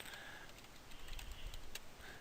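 Typing on a computer keyboard, a quick run of soft, irregular key clicks at close range during computer drafting work, with faint room noise and no talk.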